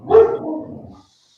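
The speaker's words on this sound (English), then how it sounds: "granddaughters are here and they're rallying up the dog" A pet dog, riled up by playing granddaughters, gives one loud close bark followed by a trailing growly yip, then falls silent.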